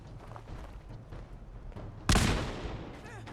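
Gunfire erupts in Fallout 4: after a low rumbling muddle of background noise, one loud close shot or blast cracks out and decays into a rolling tail.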